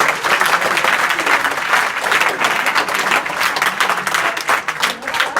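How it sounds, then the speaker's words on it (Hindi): A school audience applauds guests at an event, a loud, sustained burst of many hands clapping together, dense and continuous throughout, close and filling the space. "तो इनके लिए एक जोरदार ताली बजाएं।"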